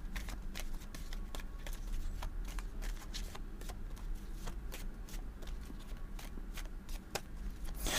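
A deck of oracle cards is shuffled and cut by hand, giving a rapid series of crisp papery flicks and soft slaps over a low, steady room hum, close and without talk.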